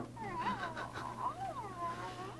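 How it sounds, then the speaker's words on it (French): Animated cat in an augmented reality children's book meows in a few rising-and-falling calls, fairly close, over a steady low hum. "Et là, il y a un chat."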